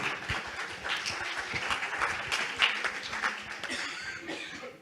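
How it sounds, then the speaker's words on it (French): Audience at a French talk applauds a volunteer coming forward, a dense continuous patter of clapping at moderate volume lasting throughout, with a cough or two and faint voices mixed in. "On applaudit la courageuse."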